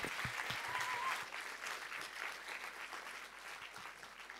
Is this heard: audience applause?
yes